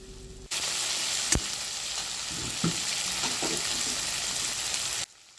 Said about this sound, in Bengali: কড়াইশুঁটি আর টমেটোগুলো এবার নেড়ে চেড়ে ভেজে নেওয়া হবে